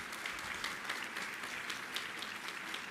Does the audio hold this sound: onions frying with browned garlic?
no